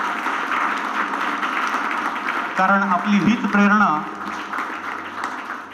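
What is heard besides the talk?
continuous applause from the audience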